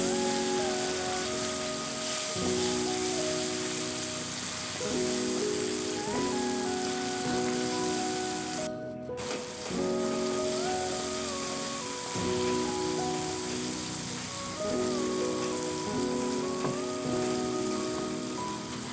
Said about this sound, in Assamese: এইখিনি ভাজিব লাগিব অলপ টাইম।